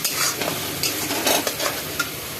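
A spoon stirs sizzling spices and meat masala in a hot pan, giving a steady close frying hiss broken by soft scraping strokes, with no talking.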